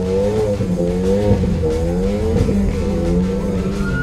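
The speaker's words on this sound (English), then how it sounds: "Loud car? Check. Revving engine? Check." A loud car engine revs steadily, its pitch wavering up and down in a sustained, close roar.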